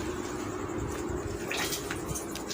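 Water drains from soaked rice poured onto a cloth, a steady close trickle and splash of liquid that runs continuously with no talk.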